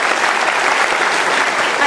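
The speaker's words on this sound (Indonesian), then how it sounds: "Boleh tepuk tangan untuk Latifah." A studio audience at a televised talk show claps continuously, a dense, loud burst of applause filling the whole moment.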